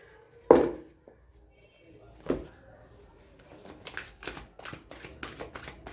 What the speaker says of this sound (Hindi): और भी हम यहाँ पर साइकी टैरो से कार्ड्स लेंगे कुछ